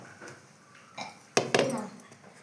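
A metal pot of freshly boiled water is lifted off a home stove, giving a few sharp clinks and clatters of metal against metal in an otherwise quiet kitchen.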